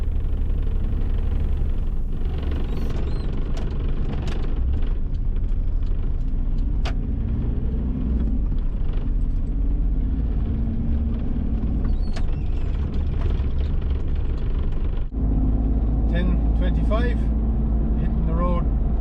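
A 1992 Daihatsu Charade with a 1 litre turbo diesel engine is driven at night, with a loud, steady low engine drone and road rumble from inside the cabin and a brief clunk partway through, while someone talks over it.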